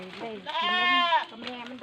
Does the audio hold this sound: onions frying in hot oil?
no